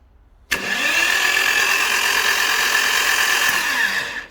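A burnt, salvaged Porsche 911 engine with its spark plugs removed cranks on the starter. The loud, steady mechanical whir kicks in abruptly and holds evenly for about four seconds before easing off.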